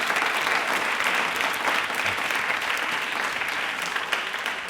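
A TV studio audience claps steadily during a Rajasthan railway quiz show, a dense, even wash of applause with no voices over it.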